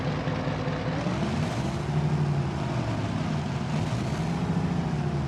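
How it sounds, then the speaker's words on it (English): The Kenworth W900A truck engine in Euro Truck Simulator 2 rumbles deep and gravelly at a steady, loud pitch, with slight wavering in the low throb throughout. "That is an interesting engine sound."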